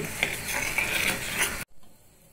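A utensil stirs and scrapes porivilangai urundai mixture in a pan with a lightly sizzling, gritty rhythm for about a second and a half, then stops abruptly into near quiet.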